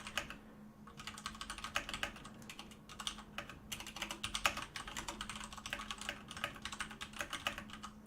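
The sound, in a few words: typing a message on computer keyboard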